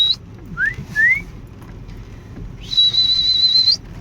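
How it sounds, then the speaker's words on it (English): A person whistles outdoors while looking for horses, with a few short rising whistles followed by one long steady whistle, clear against a quiet background. "Whistle."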